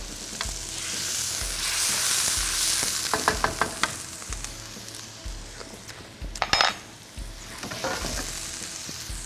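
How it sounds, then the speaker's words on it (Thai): Morning glory stir-fries in a wok over high heat with a steady hiss, while a utensil scrapes and taps the pan in quick, repeated strokes close by. "แล้วเรามีผักบุ้งเราผัดไฟแดงตรงนี้ก่อน"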